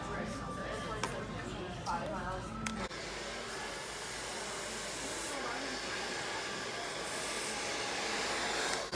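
A hair dryer, used with a round brush, whirs steadily throughout, a continuous broadband blowing noise, while a person speaks intermittently over it early on.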